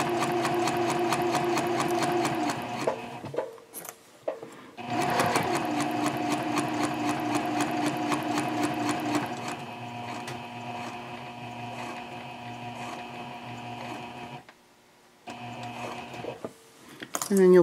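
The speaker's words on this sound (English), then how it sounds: "then you're going to start sewing across" A domestic sewing machine stitches a seam on a messenger bag in fast, even bursts, stopping briefly for pivots before running again, close and clear.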